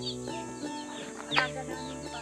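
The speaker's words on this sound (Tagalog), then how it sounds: "daming manok" Chickens cluck and murmur close by at a rural Philippine home, a string of short, soft calls with one sharper squawk midway, no talk.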